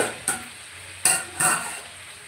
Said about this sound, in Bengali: এই যে রান্না করে নিচ্ছি, দেখতে পেলে? এই রান্না হচ্ছে।